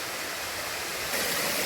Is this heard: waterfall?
yes